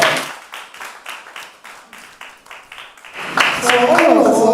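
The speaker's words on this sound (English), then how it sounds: "Give them a round of applause." Audience at a bank's annual general meeting claps for award winners, scattered hand claps building into fuller applause toward the end, moderately loud in a hall.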